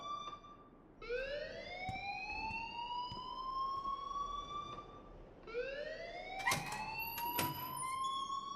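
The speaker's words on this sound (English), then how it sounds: "please turn off that alarm since that's your job" A rising electronic alarm wails twice in the video game Life is Strange, each long sweeping tone climbing and holding, with a couple of sharp knocks over a steady low background hum.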